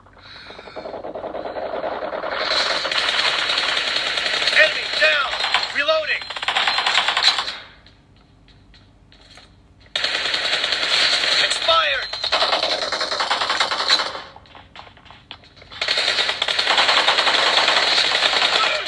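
Rapid automatic gunfire rings out in a mobile shooting game played on a Google Pixel 6a. It comes in three long, loud bursts split by short quiet gaps, with a voice faintly present.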